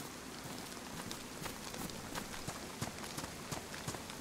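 Rain falls steadily across the open landscape of the survival game DayZ as a dense, even hiss with scattered sharper drop taps, continuous and fairly close with no talk.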